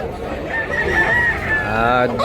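A rooster with yellow legs crows once, loud and close, its long call rising and holding before breaking off at the end, with a voice speaking nearby.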